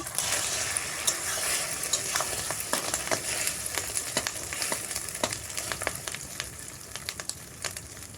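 Small pieces of egg sizzle steadily in oil in a pan, a dense continuous hiss broken by frequent scraping and tapping as the spatula stirs and breaks them up, loud and close throughout.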